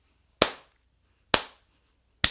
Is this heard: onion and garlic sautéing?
no